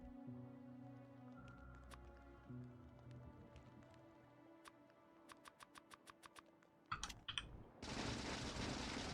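A vehicle-mounted gun in Factorio fires a quick series of about seven sharp, evenly spaced shots over a low droning background, followed by a louder burst and then a dense, loud rush of noise.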